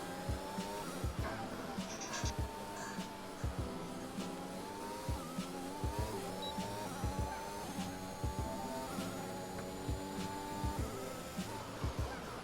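Formula 1 race cars with high-pitched engines whine past in a racing video game, among them a Ferrari. The revs climb and drop repeatedly over a rhythmic series of thumps, at a moderate level.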